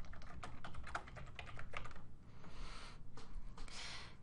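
Someone types on a computer keyboard, entering text into a form: a steady stream of soft, close key clicks with short pauses and no speech.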